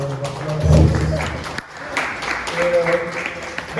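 Applause from an audience at an African fintech conference swells early and continues in bursts, mixed with a voice speaking over the clapping.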